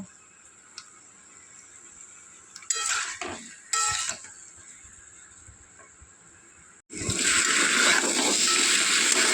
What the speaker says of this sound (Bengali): মশলাটার সাথে আলুগুলো একটু কষিয়ে নেব।